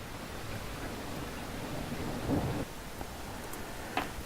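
A thunderstorm sound effect with steady rain hiss and a low rolling thunder rumble swelling midway, ending with a faint crackle, with no voices.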